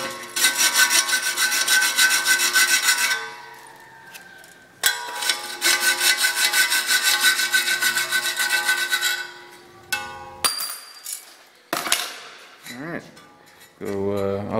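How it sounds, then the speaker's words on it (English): Rasping file strokes scrape steadily across a metal belt guard in a shop, two long sustained bouts of close, bright filing, followed by scattered clanks and handling noises with a voice speaking briefly near the end. "File that and then we'll do a little test fit."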